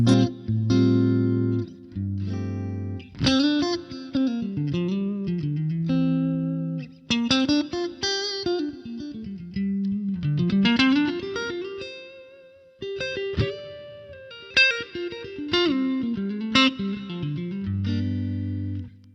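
Clean, shimmering electric guitar through a Line 6 Helix Jazz Chorus amp model with a lush, glassy chorus effect, playing chords and melodic lines with some sustained notes and short pauses.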